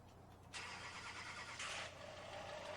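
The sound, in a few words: 2020 Duramax pickup truck engine starting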